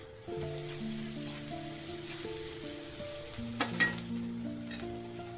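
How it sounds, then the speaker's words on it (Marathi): Sliced onion, fried reddish-brown, sizzles steadily in a pan as kokum is added for a spicy dry prawn masala. A brief clatter comes midway, with a melodic music bed underneath and no speech. "कांदा आपला भाजून झालाय लालसर भाजला आहे कांदा कोकम टाकूया"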